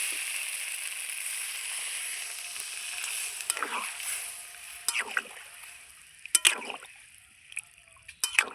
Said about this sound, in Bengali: এবার আমি তরকারি ঝোলের জন্য একটু জল দিয়ে দেবো।